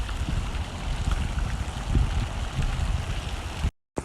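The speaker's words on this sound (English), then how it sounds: "They got the little waterfall." A small outdoor waterfall flows in a steady, close, full rushing wash with no pauses, cutting out abruptly near the end.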